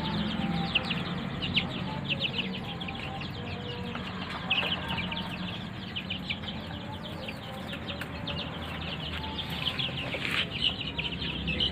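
Chickens in a ground-level coop holding week-old birds, a dense, steady chorus of clucks and high peeping carrying on throughout at moderate volume, with no voices.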